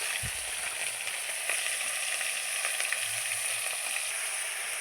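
Onion, tomato and ginger-garlic paste frying in leftover fish-frying oil, giving a continuous dense sizzle with faint stirring scrapes and a soft low thump near the start, close and steady, no voices.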